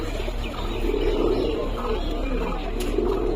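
In a loft, a pigeon coos softly against a steady background hum with low rustling, with no talking.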